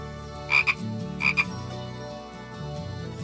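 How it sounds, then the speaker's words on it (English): Two short cartoon frog croaks from the Doodle Town 2 video game, spaced about a second apart over a steady background music loop. "This frog has spots."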